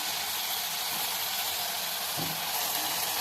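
Tomatoes fry in oil inside a cooker for mixed dal sambar, giving a steady, soft, even sizzle that runs without a break, with one faint low knock partway through.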